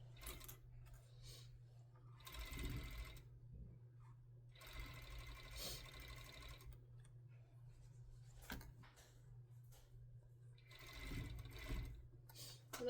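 A sewing machine stitches bands on Coquette pants in three quiet bursts of steady mechanical whirring, with a low constant hum running underneath and soft handling noises in the gaps.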